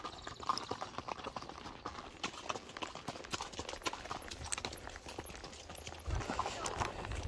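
A horse's hooves clip-clop steadily along a mountain trail in the Ecuadorian Andes, a close, regular rhythm of hoof strikes with rustling and a louder patch near the end.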